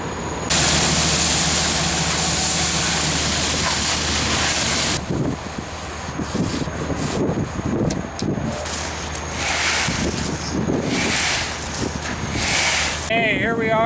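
Wind roars steadily across the microphone at an outdoor concrete slab pour, gusting louder and softer, with muffled outdoor noise and brief indistinct sounds.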